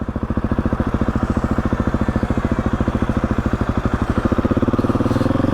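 An adventure motorcycle rumbles along a road near Newton Stewart in Scotland's Southern Uplands, its engine beating steadily and loudly throughout with a rapid, even pulse and no talking.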